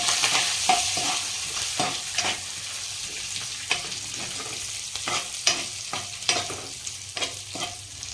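Curry leaves and crushed peanuts fry in a hot pan, a steady sizzle under repeated sharp scrapes and clinks of stirring, close and fairly loud with no voices.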